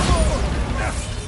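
Bombarda blasting spell cast in the video game Hogwarts Legacy: a dense, loud burst of crashing, rumbling noise that fills the short moment with heavy low-end weight.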